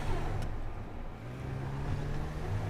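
Elegy RH sports car engine in GTA 5, a steady low drone of a cruising motor at high speed with slight swells in pitch, continuous and fairly quiet, with no talk.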